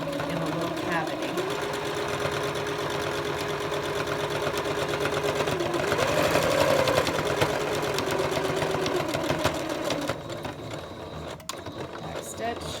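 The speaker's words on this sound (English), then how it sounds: "I'm going to run another seam tight up against where the pipe cleaner is" Sewing machine stitching a seam on a fabric face mask made from scrap materials, running in a steady close mechanical whir for most of the clip, then easing and stopping near the end.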